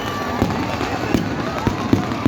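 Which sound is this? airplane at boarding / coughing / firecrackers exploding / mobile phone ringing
firecrackers exploding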